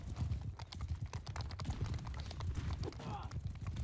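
Rapid clip-clop of horse hooves with clattering game sounds layered on top in a Bannerlord multiplayer siege battle, busy and continuous throughout.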